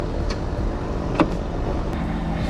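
An Austin 7 Pearl car is driven, its engine and road noise making a steady, close rumble from inside the cabin, with a couple of faint knocks and no talking.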